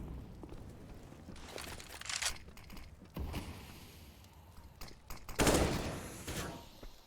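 Scattered gunshots and bursts in a Counter-Strike esports match on the map Nuke, moderately loud cracks spaced apart over ambient game noise, with a sharper cluster of shots near the end.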